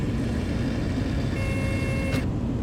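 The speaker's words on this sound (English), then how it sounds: "That thing's beeping because I'm pulling back so far in my throttle and my landing gear is not down." In Flight Simulator X, the landing gear warning in an A2A Piper Comanche beeps over a steady cockpit engine hum, with throttle pulled back and the gear still up.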